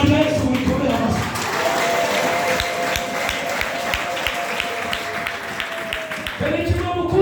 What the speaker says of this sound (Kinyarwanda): Izina rya Yesu mulikomere amashyi